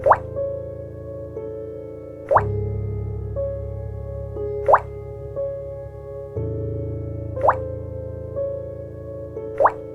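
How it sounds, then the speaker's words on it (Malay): Water dripping at a slow, steady pace, five distinct plops spaced roughly two seconds apart, clear and close over a low background hum. "ada waktu-waktunya dia akan terdengar bunyi air menitis"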